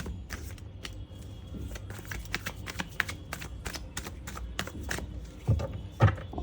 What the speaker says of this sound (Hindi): और मैं 2 कार्ड लेती हूँ।